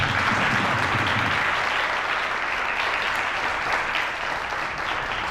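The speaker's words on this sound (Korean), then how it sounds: "네, 박수." Applause from a youth camp audience at the close of a lecture, loud and dense clapping that holds steady throughout with no one speaking.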